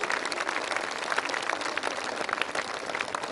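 An audience at a Brahma Kumaris land-blessing and dedication ceremony bursting into applause, dense continuous clapping from a large crowd with no speech over it.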